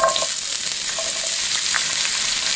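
Vegetables saute in olive oil in a pan, giving a loud, continuous close-up sizzle with a few faint clinks, no voices.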